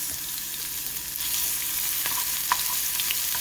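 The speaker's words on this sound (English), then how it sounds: "Now I'm going to let that saute for a few minutes." Ingredients for ground lamb rice balls sautéing in a pan, a steady bright sizzling hiss that grows slightly louder partway through, with a few faint clicks on top and no voices.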